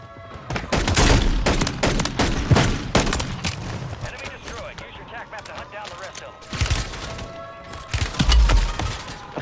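Pistol shots in a Call of Duty match crack in quick bursts, loud and close, with gaps between volleys and players talking over the action.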